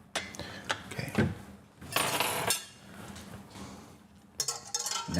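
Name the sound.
whisking ice cream mixture in a bowl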